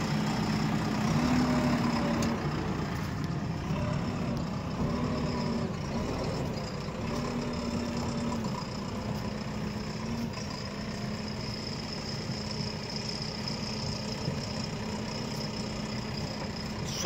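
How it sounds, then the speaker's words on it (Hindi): JCB 3DX backhoe loader engine running during a mud test, a steady, loud diesel drone heard from close by throughout with small shifts in tone and no talk. "गणेश काका थोड़ी ड्राइव कर रहे हैं भाई"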